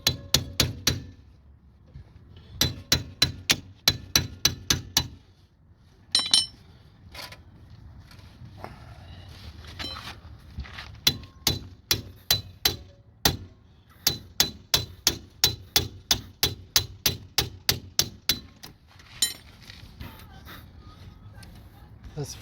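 Someone hammers a part off a car wheel on an AWD vehicle, sharp metallic strikes in rapid bursts of a dozen or so blows with short pauses between, close and loud over a quiet background.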